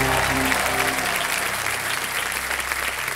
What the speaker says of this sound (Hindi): जोरदार तालियां बज जाए एक बार जनता की।